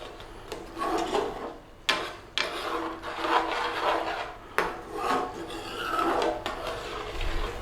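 Chicken tikka masala stirred in a pan, a steady scraping and rubbing of utensil against the pan with a few sharper knocks, close and moderately loud, no talking.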